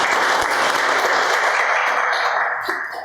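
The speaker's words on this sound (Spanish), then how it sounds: "lo recibimos con un fuerte aplauso" A crowd applauds loudly and steadily, a dense wash of clapping that fades slightly near the end.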